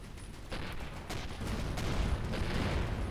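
Rapid bursts of sci-fi gunfire crackle in space combat in the video game Avorion, over a dense, noisy battle background, fairly loud and continuous, with no voices.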